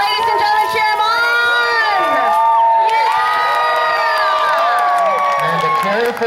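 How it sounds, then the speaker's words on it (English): A loud crowd at a jousting tournament cheers and whoops for a knight on his second pass, with excited shouts, children's high voices and sustained rising yells filling the whole stretch. "Ladies and gentlemen, cheer him on!"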